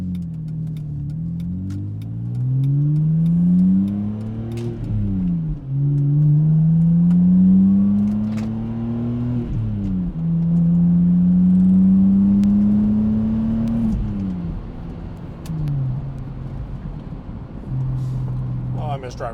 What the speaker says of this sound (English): Oh, I miss driving this car.